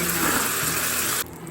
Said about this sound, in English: Now what we're going to do is we're going to drain off this oil.